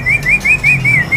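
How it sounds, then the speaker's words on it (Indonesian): A white-rumped shama (murai Medan) songbird calls in a run of six quick, rising whistled chirps at a steady rhythm, close and clear over a low background hum. "Ini ada burung murai Medan"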